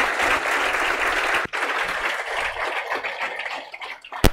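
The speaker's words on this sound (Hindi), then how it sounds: "एक बार सभी लोग आनंद सर के लिए एक बार ताली बजा दो।" Students in a lecture hall applaud their teacher with dense, steady clapping that thins out toward the end, closing with a single sharp clap.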